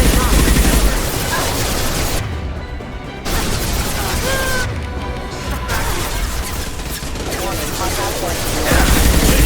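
Heavy gunfire in Mass Effect 2: loud, dense bursts of shots and crashing impacts, with short lulls between them and voices talking amid the firing.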